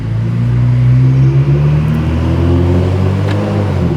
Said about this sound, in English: as you guys can see, the car is driving perfectly fine